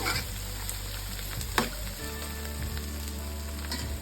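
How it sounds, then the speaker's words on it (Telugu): Ginger, garlic, turmeric and onions fry in a pan, giving a continuous sizzling hiss with occasional stirring scrapes and a low background hum. "అల్లం వెల్లిపాయ, మంచి పసుపు, ఆనియన్స్ అన్నీ మంచిగా ఫ్రై అయిపోయినాయి."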